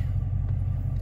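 A Dodge Challenger R/T engine holds a steady, deep idle-level rumble while held at launch-control revs, a low continuous drone heard close up with no other sounds.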